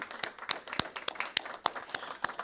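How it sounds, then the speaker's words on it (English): Short burst of applause from a church congregation at an Easter service, a moderate number of hands clapping with distinct individual claps audible, fairly faint and steady. "So I just want to give them a big round of applause."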